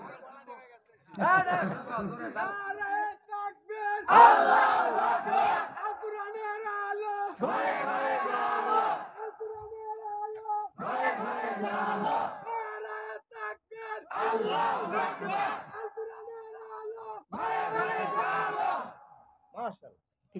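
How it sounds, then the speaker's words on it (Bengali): A large crowd at a Bangla religious sermon gathering shouts the takbir in unison in several loud, repeated bursts with short pauses between them, the voices full and echoing. "সবাই তাকবীরের আওয়াজগুলো দেন"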